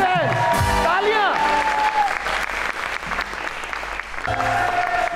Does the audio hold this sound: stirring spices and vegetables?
no